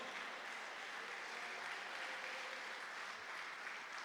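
A church congregation claps together during a women's service, a steady, dense wash of applause that holds evenly throughout without any speech over it.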